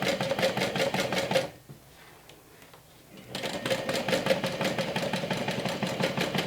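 A sewing machine top stitches through layers of cork, vinyl and fabric at stitch length 3, running in a fast, steady mechanical rattle, pausing briefly for a couple of seconds, then starting up again close and loud.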